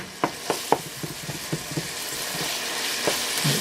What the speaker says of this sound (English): So I'm browning some beef, which will have to be drained.